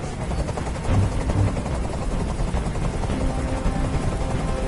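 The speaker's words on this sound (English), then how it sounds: "Tell that helicopter to get out of here!" Helicopter from a video game hovering overhead, a steady loud rotor chop with engine whine filling the whole stretch, no voices.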